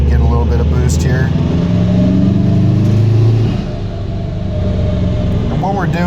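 A freshly built engine being broken in on a dyno, accelerating under boost and load: a loud, steady, droning engine roar that eases slightly partway through, with someone talking over it.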